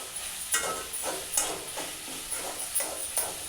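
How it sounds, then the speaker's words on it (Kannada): Soy-chunk chilli sauce with vegetables sizzles in hot oil in a pan, a soft continuous frying hiss broken by periodic stirring scrapes at a close, fairly quiet level. "ಸಾಸ್ನ ಚೆನ್ನಾಗಿ ಫ್ರೈ ಮಾಡ್ಕೊಳ್ಬೇಕು."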